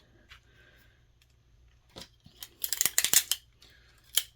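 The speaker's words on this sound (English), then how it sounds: "If you want a smaller piece, just use your scissors." Crisp snipping of scissors through paper for a card craft, a quick cluster of several cuts in the middle and one more near the end, close and clear over quiet.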